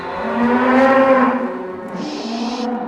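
A dairy cow during morning milking lets out a long, loud moo, followed by a second lower moo as a brief hiss sounds nearby.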